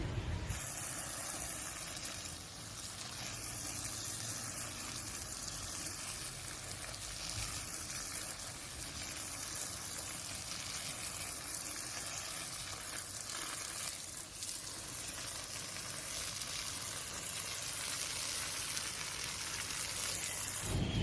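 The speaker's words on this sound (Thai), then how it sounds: "เดี๋ยวผมล้างรากแป๊บหนึ่ง" Running water rinses the roots of a desert rose plant, a steady, dense hiss and splash that lasts throughout at an even level, close by, with no voices.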